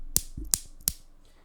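Three sharp, close clicks from a mechanical keyboard switch with a polycarbonate top housing, Cherry MX White stem and nylon bottom housing, evenly spaced about a third of a second apart, bright and crisp in a quiet room.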